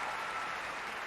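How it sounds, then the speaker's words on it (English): A crowd at a Rogue Fitness competition gives a dense, steady round of applause for the athletes, filling the whole short moment without a break. "can I get one more big round of applause for all the athletes, legends, teams,"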